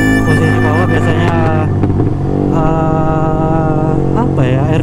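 Motorcycle engine on a night ride, running weak and flat at low RPM, a steady loud drone with harmonic engine tones shifting slightly as speed changes, with a voice talking over it.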